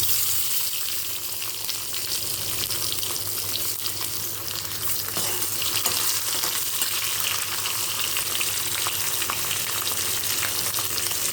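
Chopped tomato fries in a hot pan, giving a dense, even sizzle and crackle that runs unbroken throughout at moderate volume.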